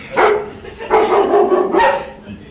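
Several loud, close dog barks in three spaced bursts, with a short pause between each.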